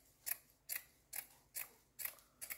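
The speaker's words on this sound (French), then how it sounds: "je découpe des petits morceaux" Scissors cutting small pieces of burlap jute fabric, six crisp snips in an even rhythm, close and quiet with no talk.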